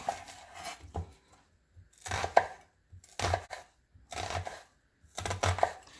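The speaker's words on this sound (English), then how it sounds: "let's get this onion chopped up." An onion is chopped with a knife on a board in bursts of rapid, crisp cuts, separated by short pauses, close and fairly loud with no talk.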